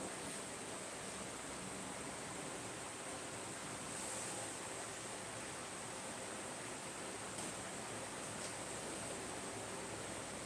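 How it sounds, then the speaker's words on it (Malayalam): A steady, broadband whooshing hum from an electric fan runs unbroken throughout, whirring nearby, with no talk. "ആ ഫാൻ ഇങ്ങനെ കറങ്ങിക്കൊണ്ടേ ഇരിക്കുക അതിൻ്റെ സൗണ്ടിലുണ്ട്"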